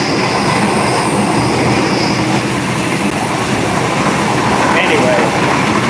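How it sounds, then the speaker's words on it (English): Inside a train travelling from Bangkok to Surat Thani in Thailand, a loud, steady rumble of carriage and rails runs throughout, with a faint wheel squeal late on. "Hey guys, I'm on a train. I'm on from Bangkok."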